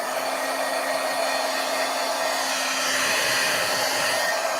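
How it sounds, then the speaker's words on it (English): A handheld heat tool for craft embossing runs continuously close by, giving a loud, even blowing whir like a hair dryer with a faint steady hum and no speech. "I'm going to turn on my heat tool, so sorry for the noise."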